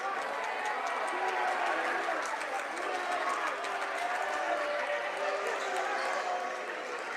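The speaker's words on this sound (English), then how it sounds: "Steelville applauds." A crowd in a gym at a girls' high school basketball game applauds steadily and fairly faintly, a dense continuous clapping heard under a commentator's voice.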